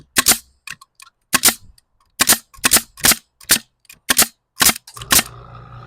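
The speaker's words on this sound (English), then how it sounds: "I'm going to show you how many nails I can shoot on one full charge with just an 18 gauge" Cordless 18 gauge nail gun driven by a quiet-series Makita compressor (MAC100Q), firing nails in a fast series of about nine sharp, loud snapping shots, followed by a compressor motor starting to hum.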